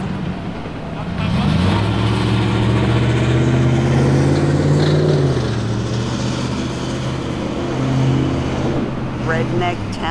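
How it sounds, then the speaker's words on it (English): A loud truck engine revs up, holding a strong droning tone that rises and falls over several seconds before easing and revving again, close by in a small town. "Redneck town with loud trucks every time you turn around, I swear."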